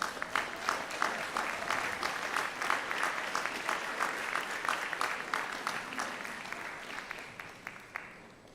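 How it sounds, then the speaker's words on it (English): An audience at a doctoral hooding ceremony claps steadily for several seconds, a dense patter of many hands in a large hall that thins toward the end. "give a round of applause for your family and friends that are here supporting you today"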